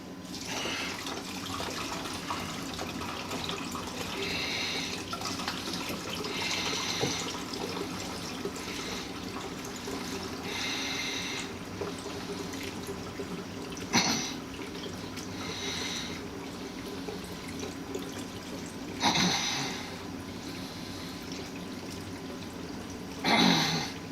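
Homebrew liquid for an orange and blueberry wheat beer poured through a strainer, with pineapple chunks strained out. A steady, close splashing pour runs throughout with a few louder gushes near the end, and no talking.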